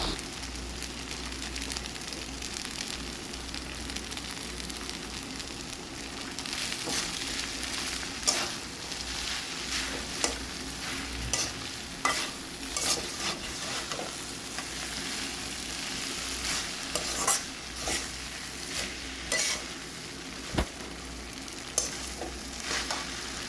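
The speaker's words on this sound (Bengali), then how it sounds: "এখানে হচ্ছে আমি নাড়াচাড়া করে আবারও হচ্ছে দ্বিতীয়বার লবণটা দিয়ে নিলাম" Noodles frying in a pan with noodle masala, stirred steadily with a utensil, giving a continuous close sizzle broken by frequent scraping clicks and knocks against the pan, with no talking.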